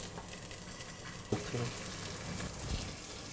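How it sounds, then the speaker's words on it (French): Sliced onions about 3 mm thick sizzle and fry in a pan as they brown for a Burgundy-style burger, a steady soft crackle with a few louder stirring clatters, nearby and fairly quiet. "Donc on va mettre à colorer les tranches d'oignons."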